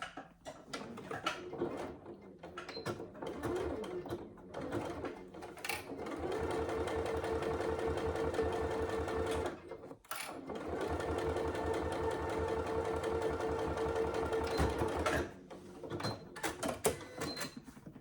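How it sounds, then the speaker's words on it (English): A sewing machine top stitches along the edge of a saddle bag at a long stitch length, a close, rapid mechanical chatter in two sustained runs separated by a brief pause, with scattered clicks and handling noises around them. "Now we're going to just top stitch along that top edge to close the gap."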